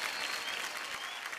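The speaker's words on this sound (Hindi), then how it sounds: "जोरदार तालियां हो जाए इस परफॉर्मेंस के लिए" Studio audience at a television awards show clapping for a stage performance, a brief, steady burst of dense applause with no voices over it.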